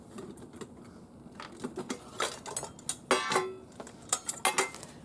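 Pieces of a small camping cooking set being handled, a run of light metallic clicks, taps and rattles that grow busier and louder toward the end.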